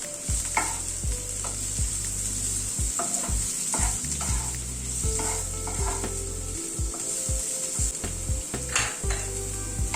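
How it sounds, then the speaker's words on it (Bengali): Chopped red and green capsicum stirred and fried in a pan, with a steady sizzle under repeated scraping and clinking strokes of a utensil against the pan, close and continuous. "ক্যাপসিকামটা দিয়ে আবার মিনিট খানেক একটু নাড়াচাড়া করে নিলাম"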